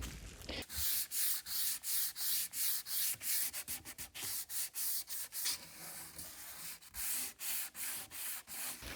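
Rhythmic back-and-forth sanding strokes on a wooden furniture panel, each stroke a gritty scratching rasp with brief pauses between, close by and fairly loud.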